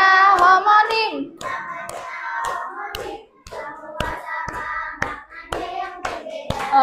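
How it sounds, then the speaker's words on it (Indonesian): Crisp hand claps strike in rhythm at a primary school lesson, several sharp beats spaced through a sung classroom tune on homonyms, with the melodic voice continuing loud and close between them. "tepuk tangan buat kita semua"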